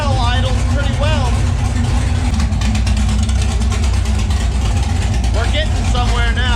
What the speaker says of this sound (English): Fire's right up on the key now. And as you can tell, idles pretty well.